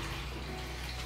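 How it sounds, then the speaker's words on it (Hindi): Water is poured steadily into a container nearby, a continuous close rushing and splashing with no pauses. "पानी भर दूँ इसमें"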